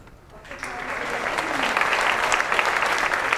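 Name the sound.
audience applause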